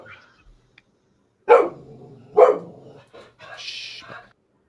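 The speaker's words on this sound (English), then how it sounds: "Sorry about the barking, guys." A dog indoors gives two sharp barks a second apart, then a higher yip or whine, close and fairly loud in an otherwise quiet room.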